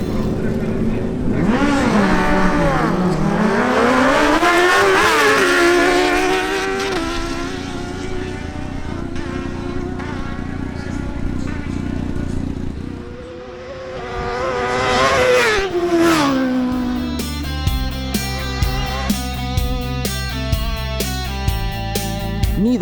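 High-pitched sport motorcycle engines, including a Suzuki GSX-S750 and a Kawasaki Ninja Z1000SX, wail as they accelerate hard and shift during drag races, fading away, then a new rev builds up with tonal background sound.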